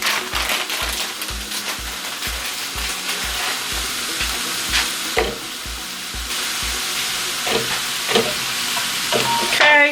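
Garlic and chopped courgette sweat in a pan, a steady soft sizzle running throughout with occasional scraping stirs and low knocks, fairly close and unaccompanied by talk.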